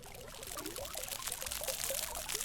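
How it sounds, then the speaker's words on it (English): Water layered as a sound effect into a music production pours and trickles steadily, a bright splashing wash that stays fairly quiet and continuous throughout. "and then I added some water sounds"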